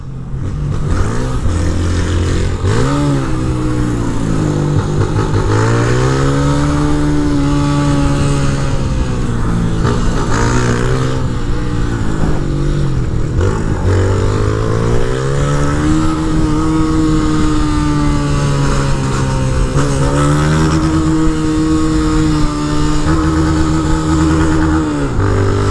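A Honda Start 160 motorcycle engine revs repeatedly, its pitch rising and falling in long sweeps over a loud continuous roar, close and sustained throughout with no talk.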